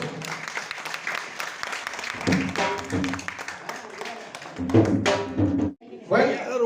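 Audience applause at a wedding anniversary celebration held at a press club, scattered clapping that builds into a burst of claps alongside someone talking over a sound system.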